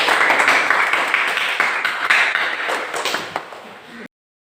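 Classroom applause after a group presentation, a dense patter of many hands clapping close by that fades and then cuts off abruptly.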